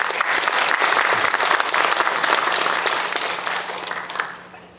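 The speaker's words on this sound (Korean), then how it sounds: "힘찬 박수 부탁드립니다." Dense, loud audience applause fills a room at a women's gathering on new apartment complexes, sustained for several seconds before tapering off.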